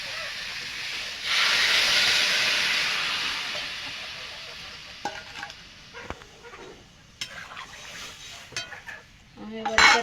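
Water poured into a pan of frying pumpkin and potato sets off a loud burst of hissing sizzle that gradually fades, followed by scattered clinks of a utensil against the pan.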